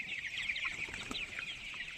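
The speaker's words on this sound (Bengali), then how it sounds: "আপনাদেরকে দেখাচ্ছি আমি আমার টাইগার মুরগিগুলো সকালবেলা ছেড়ে দিলাম" Tiger chickens let out of their house in the morning give soft, fairly quiet clucks and chatter in a continuous flock murmur, with one brief sharper call near the middle.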